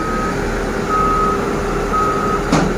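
A Scania truck carrying a loader, broken down on a road, sounds three steady, evenly spaced reversing beeps over a continuous low engine rumble, close and loud.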